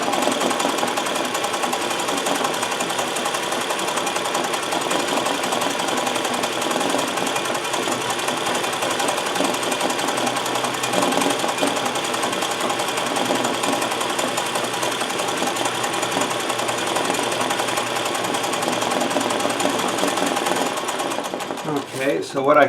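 A sewing machine stitches embroidery in a long, continuous run of dense, even stitching that stays close and steady, briefly stopping at the end.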